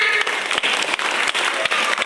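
An audience at a gathering in Yogyakarta claps, a loud, dense stretch of applause with brief dips, close and continuous, with no speech over it.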